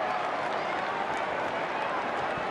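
A large crowd roars steadily at an Australian Football League match between Fremantle and Adelaide, a dense, sustained wash of cheering that fills the whole stretch without letting up.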